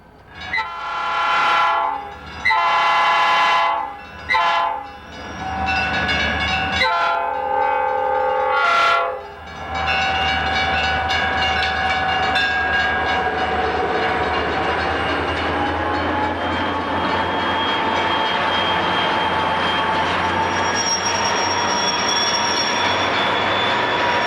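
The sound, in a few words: Corp freight train locomotives on Siskiyou mountain grade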